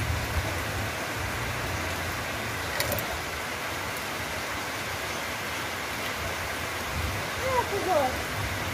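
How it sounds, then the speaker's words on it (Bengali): Steady rain falls on a waterlogged street in the early evening. It makes a constant, even hiss of moderate loudness with no pauses, and a faint brief chirp sounds near the end. "বৃষ্টি হয়েই যাচ্ছে,"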